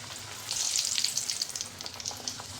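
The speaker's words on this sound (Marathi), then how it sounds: "आपल्या आता हे पुऱ्या बनवून घेतल्या आणि तळून घ्यायच्या" Puris frying in hot oil, a bright bubbling sizzle that surges after a quiet start and then settles into a steady crackle, close and fairly loud with no voices.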